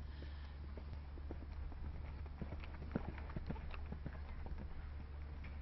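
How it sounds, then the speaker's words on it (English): A show jumping horse moves off into canter in the ring at Chatham (Medway) in England, its hooves thudding in a quick irregular beat of soft, fairly distant footfalls over a low steady hum. "This horse got quite a high action as it moved off into canter."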